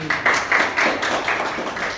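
A small audience claps for a speaker after a talk about corruption, an uneven patter of hand claps with soft pulses, close and moderately loud, no voices over it.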